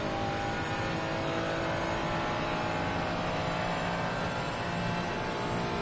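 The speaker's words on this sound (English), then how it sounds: "Have fun driving the Ferrari." Ferrari race car engine at Watkins Glen in an online sim racing game, a steady loud dense engine roar held throughout with no talk.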